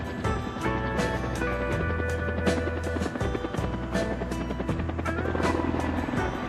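A helicopter sits on a ship's deck after the Apollo 11 splashdown recovery, its rotor thudding steadily and loudly in close rhythmic beats with a droning engine underneath.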